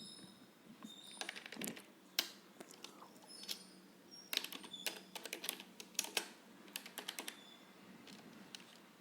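Clicks and taps of a computer keyboard as a name is deleted with backspace and typed in, irregular bursts of keystrokes at close range, quiet and without talk.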